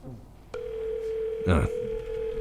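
A telephone rings in the space-station game Space Station 13, a steady electronic tone switching on suddenly and holding, with a short burst of speech partway through.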